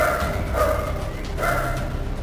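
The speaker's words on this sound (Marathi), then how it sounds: "जळगाव शहरात मोकाट कुत्र्यांचा हैदोस" Stray dogs on the streets of Jalgaon bark in two close, fairly loud bursts, with a steady low street rumble filling the gaps between them.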